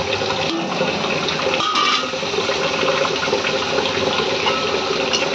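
Chili water pours into a hot cooking pan, making a loud, continuous gushing, splashing rush that runs the whole time with a brief dip partway through.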